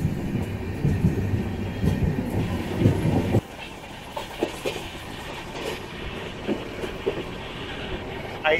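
The 06053 Onam Special passenger train rolls on rails between Tambaram and Ernakulam, with a rhythmic clickety-clack of wheels that is louder at first and then drops to a softer rumble with occasional clanks.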